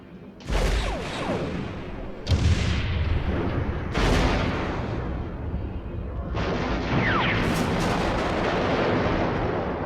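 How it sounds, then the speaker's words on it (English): Miniature explosions from the 1953 film The War of the Worlds boom out in four heavy blasts at irregular intervals, each a loud, deep burst trailing into rumbling debris and roar. "Something about the explosion of miniatures is something I quite enjoy."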